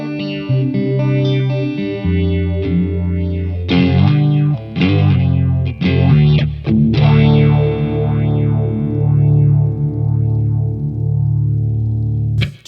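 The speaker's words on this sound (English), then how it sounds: "With all the extra Regen in it, you hear that whew, that's the Regen." Electric guitar chords through a HomeBrew Electronics Psilocybe phaser pedal set to heavy regeneration, with loud, distorted sweeps that rise and fall in repeating whooshes. The final chord rings out under the slow phasing.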